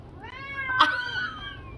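A pet cat gives one clear, drawn-out meow near the middle, rising and then falling, heard up close over a quiet indoor background.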